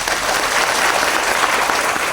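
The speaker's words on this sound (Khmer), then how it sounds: "អស់ចាសូមផ្ទះដៃជូនបងស្រីមួយ" An audience applauds together in a dense, steady burst of clapping, loud and close and continuous throughout, with no voices standing out.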